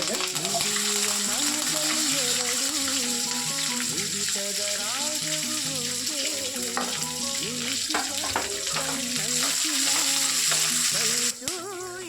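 Curry leaves and onion fry in a hot pan for a methi dish, a dense, steady sizzle with crackling pops and occasional stirring scrapes, close and continuous, with a slight drop near the end.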